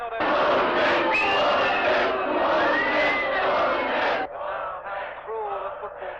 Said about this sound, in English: The king now being jeered.